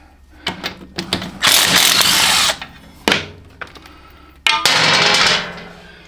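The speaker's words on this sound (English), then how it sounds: "let's see if we can get these bolts out of here" A power tool works bolts loose on a pulling tractor, bursts of whirring impact driving separated by pauses and clunks of metal, loud and close with no talking.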